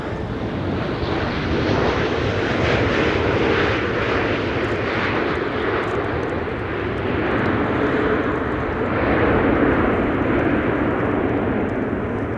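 Airplane arriving on runway 27 at Amsterdam Schiphol Airport on a windy day, with a loud, steady, broadband jet engine roar that stays close and sustained throughout.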